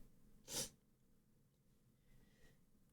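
A single sharp sneeze bursts out close to the microphone in a quiet room, then faint breathing and small rustles follow.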